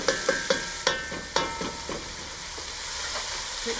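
Minced garlic, onions and peppers fry in a pan on low heat, a bright crackling sizzle punctuated by quick rhythmic stirring knocks that fade into a steady hiss.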